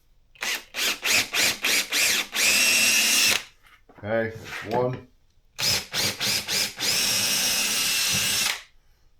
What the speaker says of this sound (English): So don't move around when I drill it.